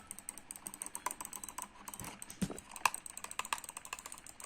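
Rapid clicking of a computer mouse and keys while playing a game, a dense irregular run of sharp close taps with a few louder clicks and no talking.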